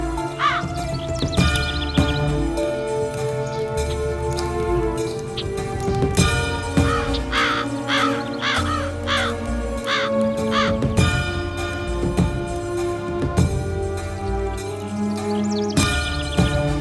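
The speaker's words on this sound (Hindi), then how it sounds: "कौआ कौआ कौआ कौआ कौआ कौआ" Crows caw in a rapid series of harsh, repeated calls over a busy background of music and other sounds in a Hindi-dubbed South Indian action film.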